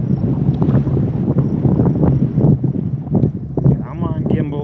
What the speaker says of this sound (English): Even windier today than it was yesterday.